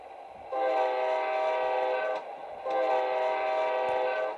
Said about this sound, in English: And the Amtrak horn sounds pretty good too.